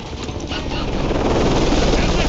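A helicopter in the Call of Duty game The Hornet's Nest flies close, its loud rotor chopping and mechanical roar building steadily.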